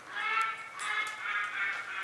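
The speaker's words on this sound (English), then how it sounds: "the quacking you hear is our wacky neighbor that got a Duck Dynasty Duck Commander call" A Duck Commander duck call blown by a neighbor outdoors gives a run of nasal quacks in three bursts, moderately loud and somewhat distant, with no talking over them.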